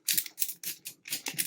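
Rapid plastic clicking and ratcheting as the lettered dials of a Wordlock combination bike lock are spun, in several quick bursts separated by short pauses, close and fairly quiet with no talk.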